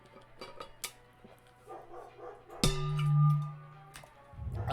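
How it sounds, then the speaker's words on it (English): A neighbor's dog barks several times in the background, a few distinct barks spread through a quiet room, with a louder low hum and game sounds partway through. "That is the neighbor's dog."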